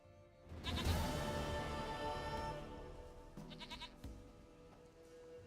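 A goat in The Witcher 3: Wild Hunt gives one long, wavering bleat up close, followed by a shorter, fainter bleat, with no talking.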